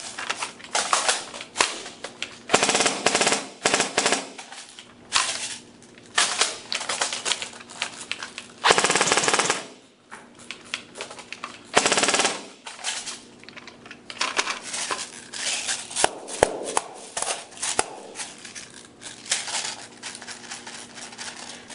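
A Lancer Tactical airsoft AEG fires on full auto during a stress test, with quick rattling clicks in several bursts separated by short pauses.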